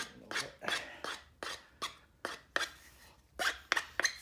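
Hand file scraping along the edges of a homemade phone cradle for a DJI Spark drone, giving a series of short, close rasping strokes in an uneven rhythm of about ten passes.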